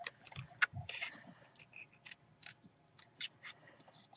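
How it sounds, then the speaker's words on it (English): Scissors snip out a paper shape with a small border by hand, a quiet, irregular series of short crisp cuts with brief pauses between them, close and alone. "I'm just going to fussy cut it out"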